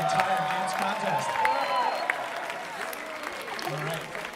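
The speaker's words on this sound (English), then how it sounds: "please round of applause to those two people for being the entire dance contest" Audience at an outdoor concert at FORM Arcosanti claps and cheers for dance contest participants, a dense continuous wash of applause with some crowd voices in the mix.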